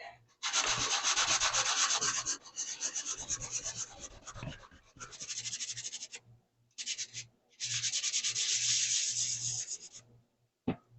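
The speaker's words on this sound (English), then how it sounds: "I'm going to want to sand that a lot bit more than I did." Sanding a Hellboy Good Samaritan gun prop, with close, loud raspy strokes in several long bursts separated by short pauses.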